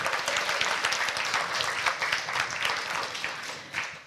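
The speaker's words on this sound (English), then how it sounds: "Please give him a round of applause." An evening arts event audience applauds a photographer, a broad sustained wash of many people clapping, heard somewhat distant and steady.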